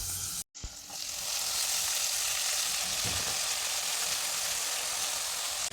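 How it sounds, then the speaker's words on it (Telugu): Washed, finely cut radish leaves drop into hot tempering oil in a pan, setting off a loud, steady frying sizzle that holds evenly after a brief cut near the start, with no talking. "వాష్ చేసుకొని మనం పోపు పెట్టుకున్న దానిలోకి వేసుకోవడమే"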